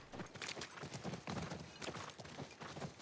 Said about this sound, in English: if you're just riding the horse like this, you're never going to maintain his full speed